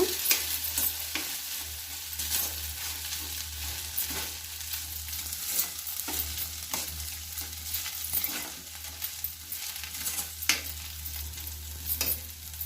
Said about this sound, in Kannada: ಅದನ್ನು ಚೆನ್ನಾಗಿ ಫ್ರೈ ಮಾಡಬೇಕು